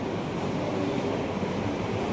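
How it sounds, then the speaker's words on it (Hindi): Steady rushing water falls continuously, a loud, broad and unbroken wash of noise with no pauses. "चल रहा पानी गिर रहा है।"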